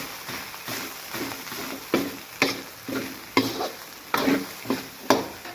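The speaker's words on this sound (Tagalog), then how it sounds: "haluin lang po natin siya ng mabuti para mag-mix na po yung ating" Day-old rice being stirred in a sizzling frying pan, with a steady fry hiss under rhythmic scraping strokes of a utensil, roughly one stroke every half second, close and clear.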